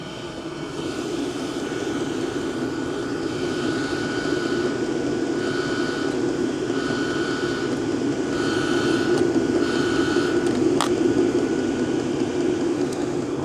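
Continuous droning whir of a diesel parking heater's fan and burner running close by, even and steady with faint tonal whines throughout.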